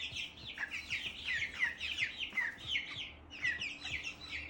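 Homestead chickens cluck and chirp in a steady stream of short, high calls, several birds at close range, fairly quiet over a low background hum.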